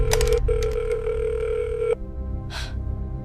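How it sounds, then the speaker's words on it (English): A telephone handset gives a steady electronic tone that breaks off after about two seconds, followed by a short hissy burst; a low rumble runs underneath throughout. "The normal dial tone completely cuts out."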